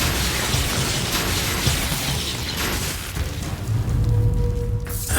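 Fiery spell blast cast in Hogwarts Legacy during a chaotic magic duel, a dense rumbling roar of bursts and crackling impacts running steadily throughout, with game effects layered on top.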